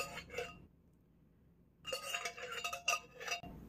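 Dishes and cutlery clinking while being rinsed, in two short bursts separated by a pause, close by and fairly quiet.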